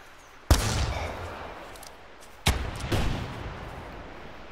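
Two sharp hunting-rifle shots in theHunter 2017 on Whitehart Island, the first at about half a second and the second near two and a half seconds, each trailing into a long rolling echo with a fainter boom between.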